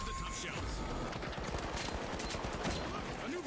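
Rapid gunfire from the video game The Finals rattles in a dense, continuous burst of shots, sustained at steady loudness, with a voice talking underneath.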